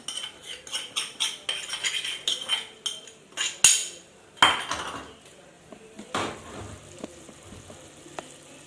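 Boiled eggs tossed into masala frying in a pan for egg curry, with a rapid run of metal spoon clinks and scrapes against the pan, then a few sharper knocks and a quieter sizzle.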